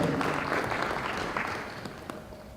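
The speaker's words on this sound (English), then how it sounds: "Clap for them." An audience at a launch event at Machakos University claps for Machakos Girls school, a brief round of applause that is fullest at the start and fades slightly.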